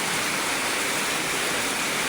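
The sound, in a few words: heavy rain pouring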